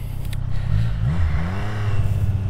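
A 2023 Triumph Street Triple 765 RS motorcycle engine revs up and climbs in pitch as the bike accelerates and wheelies slightly, with a rough, throaty low rumble throughout and no talking.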